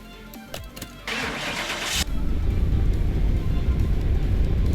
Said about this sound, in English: It's gonna get a little noisy in here as we test the engine.